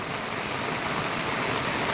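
Floodwater rushes at Chimbipada near Kuhe village in Bhiwandi, making a steady, dense roar that fills the clip from start to finish with no voices.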